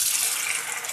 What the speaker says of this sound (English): we're going to put it in the bucket. And then we're going to fill a gallon